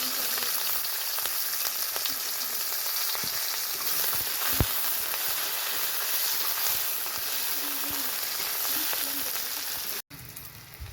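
Chopped onion sizzling and frying in a hot pan for a mushroom curry, a steady close hiss of oil with faint crackles throughout, briefly cut off near the end.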